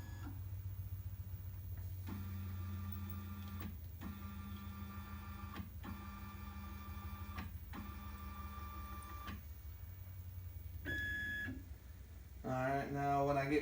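CNC router fitted with a V-bit jogging toward its zero position at the bottom left corner, giving repeated whining stepper-motor bursts of about two seconds each over a steady low hum, followed by short electronic beeps near the end.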